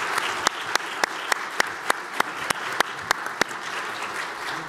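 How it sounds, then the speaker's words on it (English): A single slow, loud, evenly spaced handclap rings out roughly every third of a second over a broad bed of audience applause after a panel on countries leveraging shared solutions. "please join me in giving them a round of applause and thanks for their participation"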